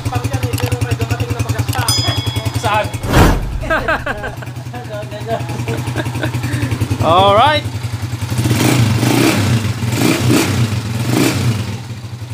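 Honda TMX155 motorcycle idling steadily after an engine overhaul, its exhaust giving a smooth, even putter up close with a couple of brief revs, while people talk over it.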